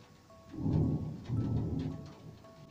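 Distant, faint thunder during a thunderstorm, two low rolling rumbles swelling and fading over a few seconds with a soft rain-like hiss beneath, no voices.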